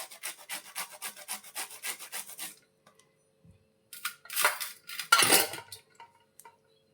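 Green (unripe) produce is grated by hand on a metal grater: a quick series of rhythmic rasping scrapes, close and fairly loud, then a pause and a few heavier, louder grating strokes.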